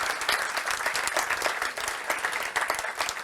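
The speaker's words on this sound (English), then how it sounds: "Let's give them another round of applause." A full room at a NATO Youth Summit event in Stockholm applauds the summit winners. The clapping is dense and sustained, with slight swells in intensity, and no one talks over it.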